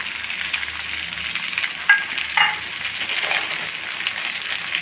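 Mutton fry sizzles in a pan over a medium flame, a steady hiss with a few sharp crackles and stirring scrapes partway through, heard close up with no voices.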